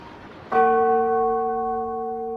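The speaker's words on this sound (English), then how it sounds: "ringing the bells till they rocked the steeple" A single loud church bell strikes and rings on with a steady sustained tone, humming clearly as it slowly fades, with another strike just at the end.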